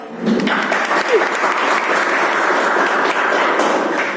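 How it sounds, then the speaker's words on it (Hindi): A crowd claps steadily, a dense, loud wash of applause that continues evenly for several seconds, with a faint voice briefly underneath. "एक बार ताली बजाओ।"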